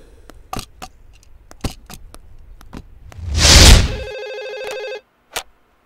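A telephone rings once with a bright electronic tone after a few sharp ticks and a brief whooshing burst, then falls quiet.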